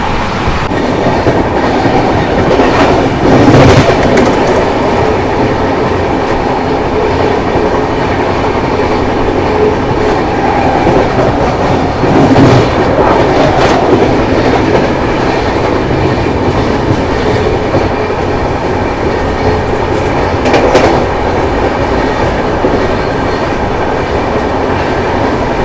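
Janshatabdi Express train on the Chennai–Vijayawada route running at speed, a loud steady rush of wheels and rail noise heard from aboard, with rhythmic clickety-clack bursts over joints throughout.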